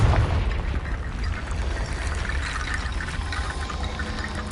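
A Confringo blasting curse in Hogwarts Legacy bursts with a heavy boom at the start, then a rolling, rumbling roar of debris and fire that sustains loudly for several seconds without speech.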